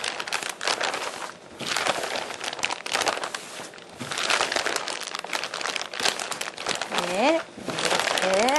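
Plastic wrap crinkles and rustles in bursts as apple pie dough is wrapped by hand in a baking class, close and continuous, while someone talks over it.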